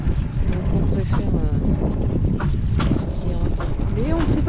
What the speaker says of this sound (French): il y a un vent qui commence à souffler, un vent du nord là, qui va entrer direct dans la baie là